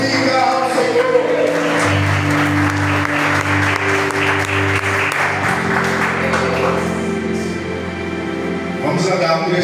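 A church congregation applauds loudly at a Sunday service, sustained clapping layered over organ-like sustained music tones, with voices mixed in throughout.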